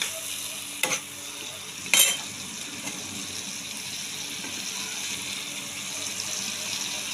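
Masala sizzles steadily in a pan for a hilsa and pumpkin curry, a continuous frying hiss broken early by two sharp clinks of stirring, close and fairly quiet.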